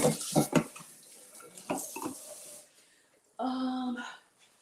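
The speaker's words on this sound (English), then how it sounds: "So let's just rinse this out." Tap water runs while a container is rinsed out at a kitchen sink, a soft splashing hiss mixed with short bursts of talk, ending in a brief steady tonal rush from the faucet.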